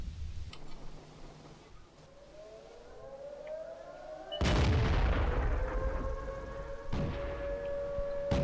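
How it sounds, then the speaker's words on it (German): Gunfire in the tank game World of Tanks: two sharp, booming shots a couple of seconds apart, each trailing into ringing tones, over rising siren-like whines and a steady low hum. No one talks. "Ich wundere mich, wo die Schüsse herkamen, eben dieses Piff-Piff, was man nebenbei hörte."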